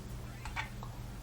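A cat in the video game Imposter Factory lets out a brief, single meow, short and moderately loud over a steady low background hum.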